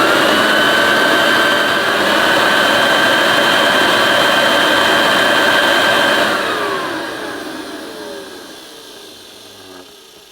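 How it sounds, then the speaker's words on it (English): A 1976 Hoover Dirtsearcher vacuum cleaner motor runs with the belt removed, giving a loud, steady high-pitched whine that then spins down, fading and dropping in pitch over the last few seconds. "We'll just turn the cleaner on with just the motor running, without the belt attached."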